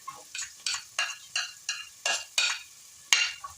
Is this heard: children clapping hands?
no